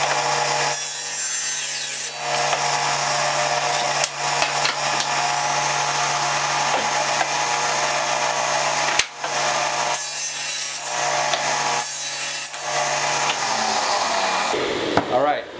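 Saw cutting through a sheet of plywood, a loud, steady buzzing rasp running almost continuously with a few brief dips between passes, alone without talk.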